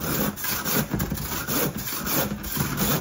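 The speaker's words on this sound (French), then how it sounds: "on suit le trait, hop, si vous voulez aller droit" A hand saw cuts through wood in steady back-and-forth strokes, a close, rhythmic rasping repeated about twice a second.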